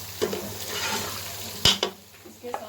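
Whole cumin seeds are stirred into mutton karahi in a pan: soft scraping and a light sizzle, with a sharp clatter partway through and a few quieter knocks near the end.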